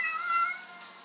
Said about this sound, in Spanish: perdón por el gato